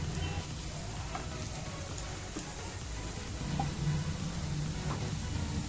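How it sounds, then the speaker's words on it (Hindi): Diced potatoes for dum aloo fry in hot oil in a pan, giving a steady, close sizzle with a few light stirring taps, no voices over it. "देखिए हमें इस तरीके से फ्राई करना है कि इनमें थोड़ी परत आ जाए।"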